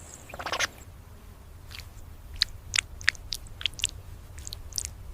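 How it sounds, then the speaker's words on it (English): An oxpecker feeds on ticks in the skin folds of a large animal, making quiet, close, irregular crunchy bites and chewing clicks in a rapid scattered series, with no voices. "Each tick is swallowed whole."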